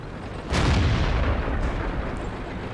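A tank cannon fires in the World of Tanks video game: one loud, heavy boom about half a second in, followed by a sustained low rumble of battle noise with faint distant shots and no talking.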